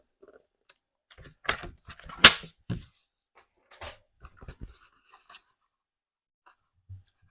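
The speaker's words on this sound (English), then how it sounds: "I'm just going to cut an inch off of this and that should help." Scissors cut through craft material in a few sharp, close snips and crunches, with a couple of louder cuts near the start followed by lighter rustling and handling, then quiet.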